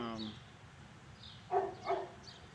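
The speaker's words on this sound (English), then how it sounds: "Of course, we have annoying dogs." Two short, sharp barks from dogs at a distance in a park, separated by a brief pause and rising above faint background voices.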